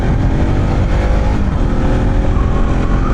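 Engines of a group of four motorcycles carrying about eight riders roar loudly and steadily on a road ride, a continuous dense drone with no pauses.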